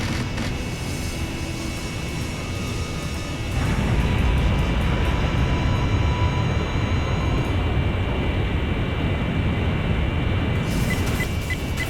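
A fighter plane roars in the Lethal Skies 2 video game, a steady, loud engine drone that swells partway through and holds under game effects.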